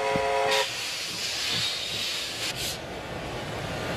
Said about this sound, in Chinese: 终于，一列由苏联开过来的火车进站了。